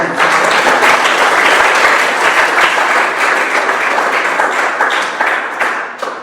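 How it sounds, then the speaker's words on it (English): Enthusiastic audience applause at an anniversary speech, honoring EMTs, with loud dense clapping that holds steady and then begins to thin out near the end. "Can we applaud EMTs?"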